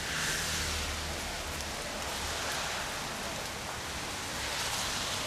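Light, steady rain falls outdoors during a tropical storm, a constant soft hiss of drops pattering on surfaces, even and close with no voices.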